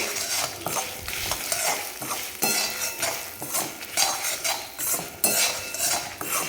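Dried red chillies and a pinch of asafoetida are stirred and roasted in a pan, making a steady scrape of spoon against metal over a soft sizzle, close and continuous.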